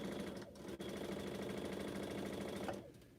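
Domestic sewing machine stitching quilt blocks together into pairs, a steady rapid mechanical chatter running nearly the whole time, close and loud, with a brief hitch early and a slowdown near the end.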